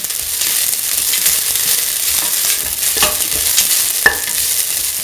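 Tomato coconut rice being stirred in a hot pan, a steady close scraping and sizzling with a few sharper clicks of the spoon against the metal.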